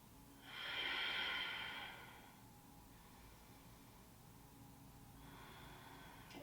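Deep breathing held during a yoga balance pose: one long, breathy exhale through the nose rising and fading over about two seconds, followed by quiet and then the faint start of another breath, close and without talk.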